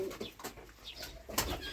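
Pigeons or doves in a village coop, with soft coos and rustling calls repeating through the moment, fairly close and steady, and a louder burst of flutter or call near the end.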